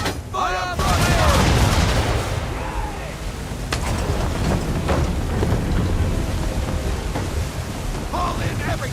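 Ship cannons and swivel guns booming in Assassin's Creed III during a naval battle, loud heavy blasts with rumbling, crackling tails over a constant roar of wind and sea, while a voice shouts commands.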